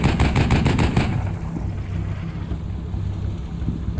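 Heavy machine-gun fire in the Combat Mission Cold War tank skirmish, a rapid burst of roughly eight loud, evenly spaced shots in the first second, then a low rumbling engine and wind-like ambience.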